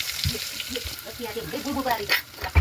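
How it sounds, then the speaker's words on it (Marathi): Cumin seeds and garlic sizzle in hot oil, a steady crackling fry running throughout while a voice talks over it. "छानपैकी लसूण पण टाकलेलं आहे आणि एक 2-3 सेकंद याला भाजून घ्यायचं"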